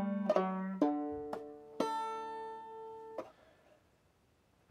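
Clawhammer banjo plays the second measure of Washington's March, a few bright plucked notes with a drop-thumb stroke on the fourth string, ringing and decaying close up with no talk.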